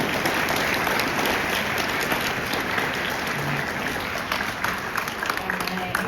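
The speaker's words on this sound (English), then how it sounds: "A big round of applause for our" Sustained applause from an audience at a university admitted-student panel event, steady dense clapping filling the room for several seconds with some crowd murmur mixed in.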